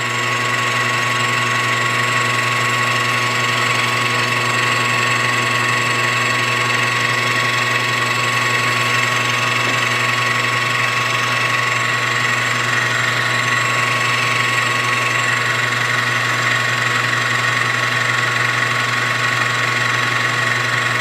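A machine tool cuts a five-cylinder radial engine crankcase, giving a steady, loud machining drone with a constant whine and faint rubbing texture that runs unbroken throughout, with no talking.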